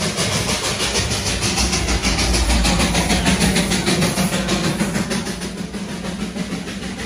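Darjeeling toy train running through clouds near Ghum, a loud steady engine rumble with rhythmic chugging pulses, easing slightly toward the end.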